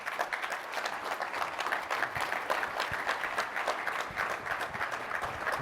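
Conference session audience clapping steadily throughout, a dense, sustained applause from a crowd filling the room with no speech over it.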